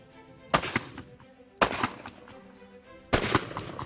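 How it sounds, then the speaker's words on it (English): Three loud shotgun blasts ring out at clay targets, each a sharp crack followed by a short echoing tail, spaced roughly a second or more apart in an open outdoor setting. "I tried to shoot one of the clays that he was shooting"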